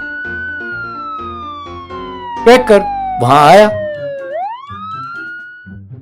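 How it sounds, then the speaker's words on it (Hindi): A police siren wails in a long sweeping tone, falling and rising, loud and near, while a voice speaks briefly over it against background music. "वो जोर से सायरन बजाता हुआ"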